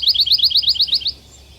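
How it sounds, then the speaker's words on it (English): A pine warbler sings from a tall red pine, a rapid even trill of about ten bright, identical chirps that ends abruptly, clear and fairly close, with no voices. "One of the other birds we're hearing from a tall red pine tree sounds like a pine warbler. A single note"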